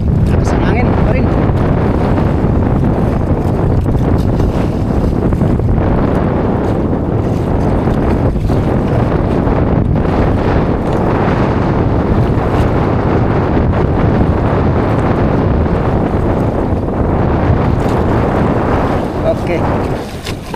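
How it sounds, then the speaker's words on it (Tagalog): Strong wind buffets a small fishing boat at sea, a loud continuous roar of wind on the microphone over rushing water and waves that holds steady for the whole stretch. "Lakas ang hangin pa rin."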